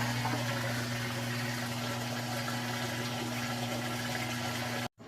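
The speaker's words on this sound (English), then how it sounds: "And now it is draining, and it's going to move along into the next cycle" A GE top-load washing machine draining between wash and rinse, a steady rushing flow of water with a constant low pump hum, close and unbroken until it cuts off abruptly at the end.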